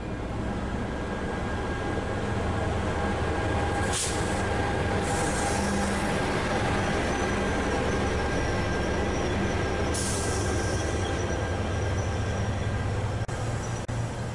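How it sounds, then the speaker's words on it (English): An ALP-45 dual-mode locomotive, able to run on diesel or electricity, rumbles steadily past with a continuous loud roar of wheels on rail and faint high squeals, no voices. "There are lots of ALP-45s, unique for running on either diesel or electricity."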